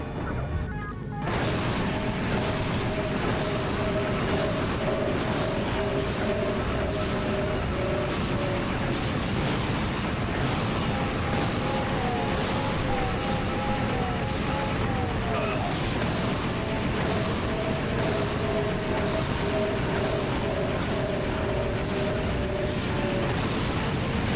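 Heavy turret fire in Ratchet & Clank: Going Commando, a dense continuous barrage of booming blasts with sustained tonal whines over the top, loud and unbroken throughout.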